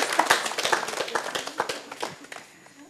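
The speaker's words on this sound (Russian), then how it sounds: "Похлопаем." A theatre-forum audience breaks into brisk applause after a scene about gender violence, with dense, close claps that thin out and fade toward the end.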